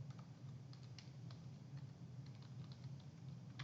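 Fingers type a username and password on a computer keyboard, producing a quick, faint run of light key clicks over a steady low hum.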